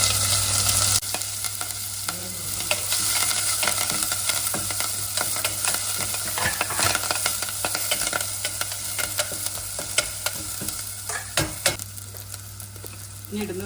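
Green chilies, curry leaves and garlic crackling and sizzling in hot oil in a pan, a steady close fry with occasional stirring scrapes, no talk.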